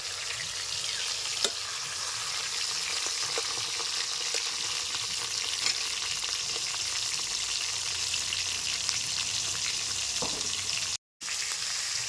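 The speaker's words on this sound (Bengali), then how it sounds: "এখন আমি একে একে সবগুলি বড়া বেজে নেব" Tomato fritters fry in hot oil with a steady, dense sizzle that continues without a break, with a few faint clicks of a utensil.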